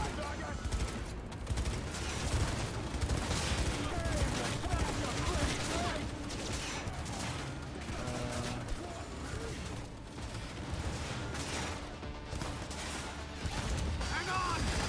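Sustained assault rifle gunfire in the Cyberpunk 2077 video game: dense, rapid bursts of shots roll on without a break, mid-level in loudness, while people talk over the fighting.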